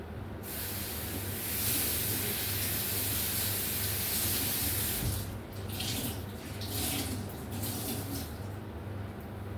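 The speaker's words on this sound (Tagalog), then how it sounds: "Lagyan uli natin siya ng tubig." Water runs steadily from a tap onto mung bean sprouts being grown at home, a continuous close splashing hiss that shifts in tone midway as the stream moves, with no talking.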